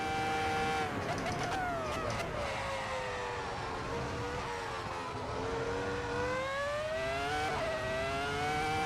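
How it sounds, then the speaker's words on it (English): Modified Ferrari SF70-H Formula 1 car in the Assetto Corsa racing game, its engine whining and straining under extra weight, pitch climbing through gear changes, steady and continuous without talking. "So the engine's struggling to push the extra weight."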